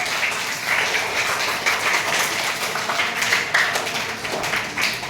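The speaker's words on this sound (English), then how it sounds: "Clapping for Ahil" Classroom of schoolchildren clapping steadily for a classmate, a dense, sustained patter of many small hands close by with no voices over it.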